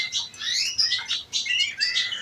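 Caged birds in an aviary, Portuguese harlequins among them, chirp and tweet in quick repeated bursts, close and fairly loud over a quiet background.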